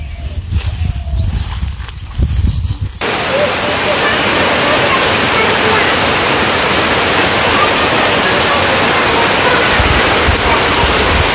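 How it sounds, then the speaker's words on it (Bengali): Rain comes down on a village home, starting suddenly after a few seconds of quieter outdoor sound and then holding as a loud, steady rush of falling water. "বাড়িতে আস্তে আস্তে বৃষ্টি করছে"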